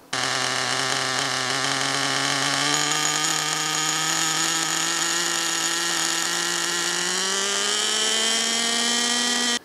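A nitro-powered RC car engine runs alone while its carburetor is tuned, giving a loud, continuous high buzzing whine whose pitch holds steady for several seconds before climbing noticeably toward the end.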